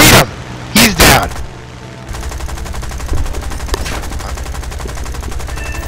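Two loud bursts of plane machine gun fire open a War Thunder air battle, followed by a continuous rapid rattle of guns over a steady engine drone, all loud and close.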